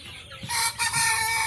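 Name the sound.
chickens clucking and a rooster crowing at a chicken farm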